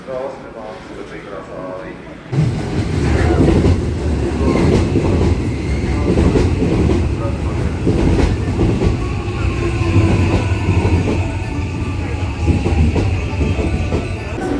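A train pulls into a platform on the line to Universal City, Japan. After a quiet moment its loud, close rumble and wheel clatter swell in and run on steadily, with voices nearby.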